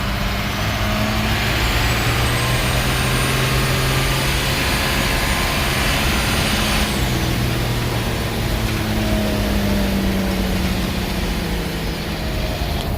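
A 1949 Cummins diesel engine runs with a homemade hillbilly exhaust brake engaged, producing a loud, continuous, broad roar with faint shifting tones throughout.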